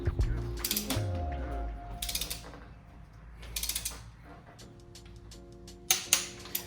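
Torque wrench ratcheting a bolt to 30 newton meters on an Audi A3 intake, repeated bursts of rapid clicking with short pauses and a sharper click near the end, quiet and close.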